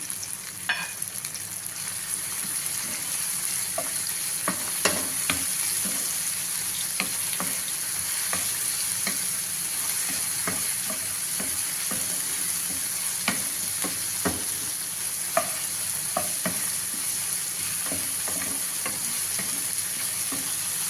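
Onions and tomatoes fry in a pan with ginger and garlic for a mutton and drumstick curry: a steady, close sizzle with scattered clicks and scrapes of a spoon stirring throughout, no voices.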